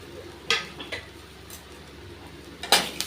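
Ragi upma being stirred in a pan over low heat, a few distinct spoon-on-pan knocks and scrapes over a faint background hiss.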